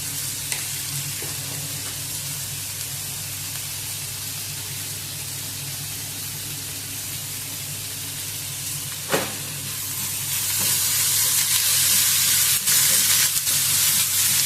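Tomato and onion with salt and turmeric cook in a pan for a fish curry, giving a steady soft sizzle and hiss with occasional stirring scrapes, growing a little louder and brighter toward the end, with no talk.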